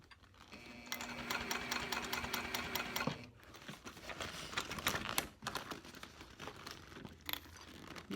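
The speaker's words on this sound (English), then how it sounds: "I'm just going to start stitching" Sewing machine running steadily while stitching a mini box tote bag, a close, continuous mechanical whir with a brief pause near three seconds, then lighter handling rustles and short bursts of stitching.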